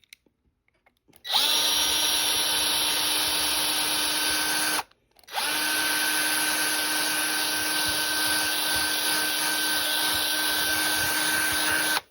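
A power drill whines steadily and loudly into a die-cast toy car, cutting out briefly partway through before revving back up and running continuously to the end.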